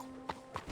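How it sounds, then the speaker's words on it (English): Horse hooves clip-clop in Red Dead Redemption 2, two soft separate hoof strikes at a walking pace over a faint steady background hum. "You got a horse? Get on it."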